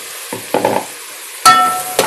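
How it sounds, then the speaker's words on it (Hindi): Green garlic sizzles as it drops into hot ghee, with several short, sharp bursts of frying crackle and stirring scrapes, heard up close with no voices. "और गरम गरम घी में हम ये लहसुन डालेंगे"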